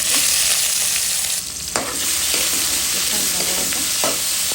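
Green chilies and tomato drop into hot oil and fry with a loud, dense sizzle, followed by a few stirring scrapes in the pan, all close and continuous.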